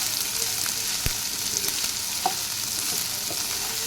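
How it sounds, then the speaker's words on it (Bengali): Mixed vegetables with flat beans are stirred and fried in a pan, a steady close sizzle with occasional scrapes and taps of a spatula and no voices. "সবজিটাকে ভালো করে ভেজে নিতে হবে।"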